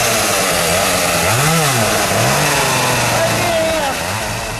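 A loud chainsaw engine runs continuously, its pitch rising and falling as it revs, with voices audible beneath the motor.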